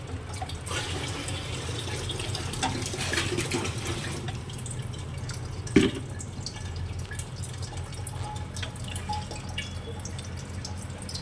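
Water runs steadily from a pipe into a container, a constant splashing flow with one brief knock partway through.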